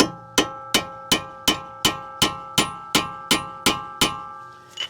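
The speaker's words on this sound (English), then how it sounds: "Now really any drift or punch will work. I'm just going to set this right here and pound that down into that keyway." Eleven evenly spaced, ringing metallic blows as a drift or punch is hammered to stake the CV axle nut into its keyway on a Toyota Corolla, Matrix or Pontiac Vibe. Each strike is loud and close and fades before the next.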